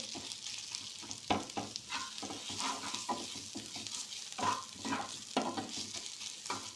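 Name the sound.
stirring fish into frying onions in a pan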